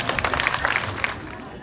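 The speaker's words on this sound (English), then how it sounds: "a round of applause, please" A crowd at an 81st birthday party applauds, a brief dense burst of many hands clapping close by with a murmur of voices mixed in, fading slightly toward the end.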